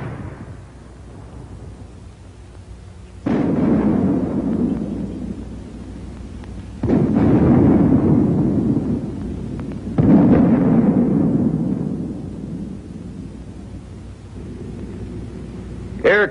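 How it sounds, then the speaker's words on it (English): Mortar smoke shells explode in a WWII infantry weapons demonstration, three heavy booming blasts several seconds apart, each with a long rumbling decay, loud and fairly distant. "The mortar also fires smoke shell."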